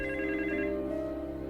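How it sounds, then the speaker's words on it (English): A telephone bell rings in a brief, continuous trill, clear and fairly close, in a crime mystery film scene. "And then the phone rang."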